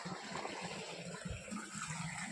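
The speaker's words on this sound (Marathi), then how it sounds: "नळीद्वारे जे पाणी पडतंय" A steady, forceful gush of water pours continuously from the pipe of a 3 HP Oswal solar pump on a farm, a close and unbroken rushing splash.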